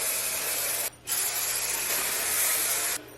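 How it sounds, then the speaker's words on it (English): Bed Head holding spray misted over styled wet-look curls, a steady close aerosol hiss lasting nearly a second, a brief pause, then another long continuous burst that cuts off near the end. "Now I will go in with this bed head holding spray and just spray everything"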